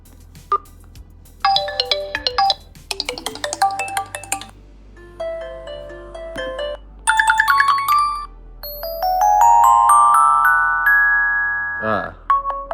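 An Alcatel OneTouch Elevate phone speaker plays ringtone and notification melodies, close and fairly loud: several bright chiming tone sequences in short bursts, then a longer rising melodic phrase, with no voices over them.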